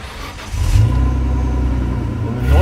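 A rear-mounted engine in a Renault Clio V6 catches and settles into a deep, steady idle rumble close by, with a brief rise in revs at the start.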